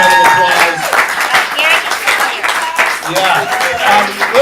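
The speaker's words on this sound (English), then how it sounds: "Give them all a round of applause" A comedy club audience at a stand-up student showcase gives the comedians a round of applause: moderately loud, uneven clapping with a few voices mixed in.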